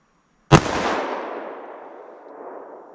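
A single .45 ACP handgun shot fired at a 50-yard target outdoors, a sharp loud crack followed by a long fading echo rolling away for a couple of seconds, with no talking.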